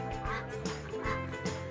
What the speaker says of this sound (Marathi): इथे बदक बघा कशी उडताय